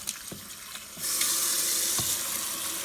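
Hot tap water pours into a sink over frozen food in a colander, softer at first, then turning on stronger and rushing steadily into the basin.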